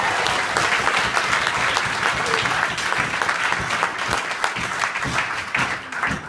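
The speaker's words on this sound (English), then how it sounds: "Can we have a massive round of applause for Shah, please?" Wedding guests give a big, sustained round of applause, dense and loud clapping from a large room of people continuing steadily throughout.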